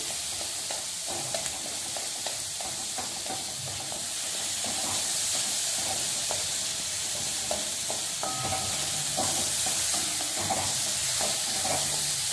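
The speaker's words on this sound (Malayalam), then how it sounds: "ഇത് 2 മിനിറ്റ് ഇങ്ങനെ വഴറ്റിയാൽ തക്കാളി അതിൽ കറന്നിട്ട് വേവും കേട്ടോ." Tomatoes sautéing in a pan for onion sambar, heard as a loud, steady sizzle and hiss with soft repeated scraping from stirring, close and unbroken, with no talking.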